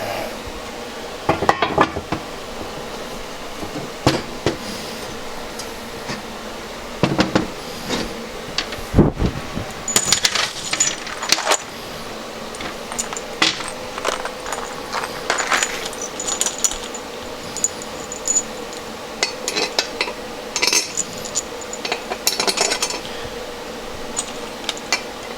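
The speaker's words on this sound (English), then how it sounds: "now let's get her bolted back together" Metal clinks, light clanks and tool clatter from bolting the aluminum cases of a 2-stroke PWC engine back together, in scattered bursts of short metallic taps and rattles over a steady workshop fan hum, with no talk.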